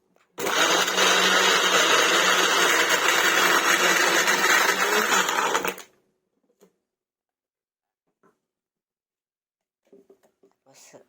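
A blender whirs loudly and steadily for about five seconds, blending cucumber with half a lemon, then cuts off abruptly, leaving near silence broken by a few faint clicks and quiet speech near the end.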